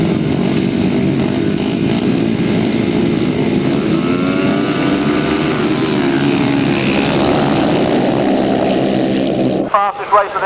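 Racing motorcycles in a 1995 grasstrack race roar loudly and continuously with engine pitch rising and falling as bikes pass, while a commentator talks over them before a sudden cut.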